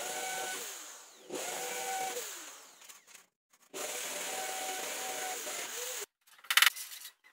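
A power drill whines through metal furring for a ceiling frame in two sustained runs, each spinning up and slowing down, then a short burst of clattering handling noise at the end.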